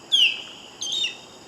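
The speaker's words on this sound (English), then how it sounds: "osprey" An osprey gives high, thin whistled call notes in three short bursts, the first longest and loudest, later ones briefer, heard close and clear with no talk.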